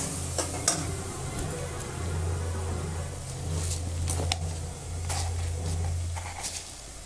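Spice paste for a cauliflower and soybean curry fries in a pan with a little water, a steady close sizzle with a low hum and several sharp stirring clinks and scrapes, no voices.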